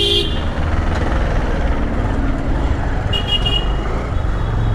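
A city traffic jam heard from a motorbike, with a low rumbling drone of engines and a couple of short car horn toots, one near the start and another around the middle, loud and close.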